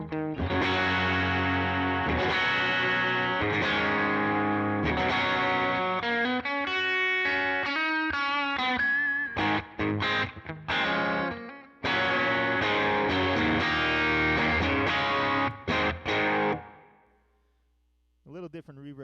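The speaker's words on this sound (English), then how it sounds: "A little different reverb than I usually use" An electric guitar played through a Line 6 Helix with reverb rings out in chords and single notes, distorted and washy, with a tail fading into silence at the end, with no talk over the playing.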